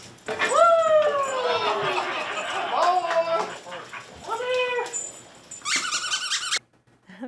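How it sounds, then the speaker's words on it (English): A retiring police K-9 explosive detection dog whimpers and yips in a string of high, rising whines, close and fairly loud, with a few sharp yelps near the end before a brief quiet. "That right there is Boomer, an explosive detection dog who got a special goodbye with one final detection"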